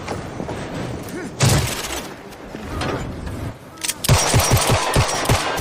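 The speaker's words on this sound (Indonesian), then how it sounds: "beberapa tembakan tepat dari Walker menghentikan pelariannya" Gunfire in an action movie chase scene toward a train station, with bursts of sharp shots and a rapid, loud volley near the end, mixed with tense film score and effects.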